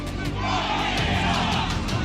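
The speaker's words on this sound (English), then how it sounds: "What a crowd." A large crowd at a presidential rally chants in rhythmic unison, loud and reverberant, with voices swelling together in a steady pulse.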